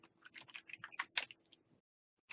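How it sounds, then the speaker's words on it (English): Someone types on a computer keyboard in a quick, irregular run of close, soft key clicks, then stops, with a last faint tap at the end. "excuse me, can't type today"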